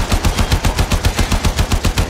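Rapid automatic gunfire in the video game Warframe, a loud, evenly paced burst of about a dozen shots in quick regular rhythm.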